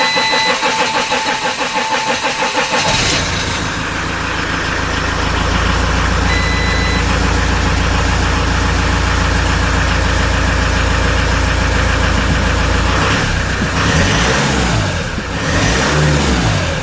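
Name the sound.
van engine starting and running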